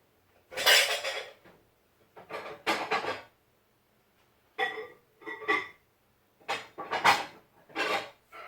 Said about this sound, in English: Actually, it's a Corningware dish.